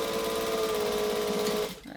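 A sewing machine runs a steady chain stitch on a bag project, its continuous whirring hum loud and even before cutting off abruptly near the end.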